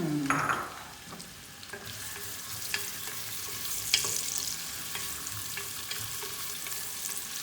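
Chopped onion fries in oil over medium heat for Pakistani-style daal mash. A steady, moderately loud sizzle runs throughout, with intermittent scraping and clinking stirs from a spoon in the pan.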